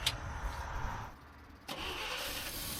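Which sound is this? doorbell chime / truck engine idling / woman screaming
truck engine idling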